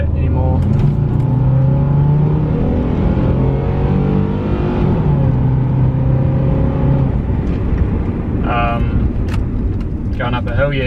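Car driven on a road to test its transmission after a slight misfire, engine droning and shifting pitch as it accelerates and changes gear, close and steady, with someone talking over it.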